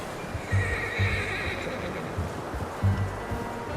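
A horse in Red Dead Redemption 2 whinnies and snorts in repeated low bursts, with hooves clip-clopping steadily underneath, close and fairly loud over a faint ambient background.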